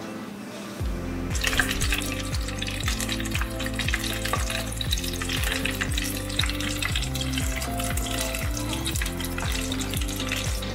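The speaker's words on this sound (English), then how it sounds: "Then it goes directly to the deep fryer." Batter-coated burbot fish drops into a deep fryer and bursts into a loud, continuous bubbling sizzle that holds steady close up for about ten seconds, with no talking.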